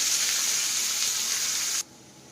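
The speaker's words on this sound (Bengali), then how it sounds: "কুচিয়ে রাখা দুটো পেঁয়াজ তেলের মধ্যে দিয়ে দেবো।" Chopped onions sizzling in hot oil with whole spices, a steady bright crackle close by that stops abruptly near the end.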